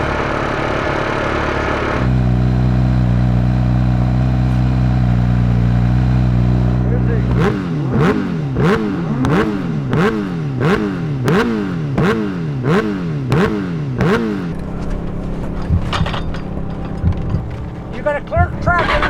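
Race cars at a top speed shootout hold a steady engine drone, then rev sharply in a quick, regular series of rising and falling bursts. The sound is loud and close, with a voice heard briefly.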